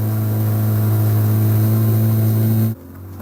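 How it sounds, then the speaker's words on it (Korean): A motorboat engine drones loud and steady out at sea off the traditional whaling village of Lamalera, a sustained mid-pitched hum that cuts off abruptly near the end. "라도스의 손짓에 배의 속도를 올리기 시작했다."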